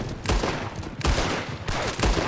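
Gunfire during a shootout in Red Dead Redemption 2: a few loud, sharp shots spaced roughly half a second to a second apart, each followed by a brief ringing tail, with no talk over them.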